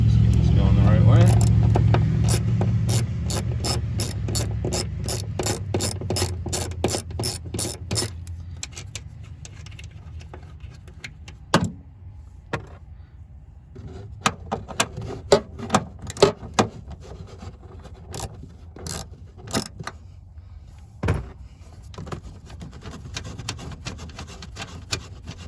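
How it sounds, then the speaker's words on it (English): A ratchet loosens the 10mm nuts holding the tail light of a 1999-2005 Mazda Miata, with rapid close clicking at first over a low rumble, then slower scattered clicks. "These are 10mm nuts that hold the tail light to the body. So what we're going to do next is take those off."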